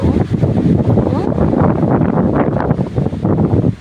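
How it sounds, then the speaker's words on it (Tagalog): Strong wind roars loudly and continuously against the microphone, a heavy rumbling rush with gusting surges throughout. "Grabe lakas ng hangin guys."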